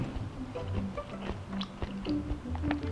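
Close-up chewing of a mouthful of steamed rice soaked in plenty of shrimp fat with shrimp and seafood dipping sauce, soft wet bites and smacks repeating steadily, with a few low murmurs.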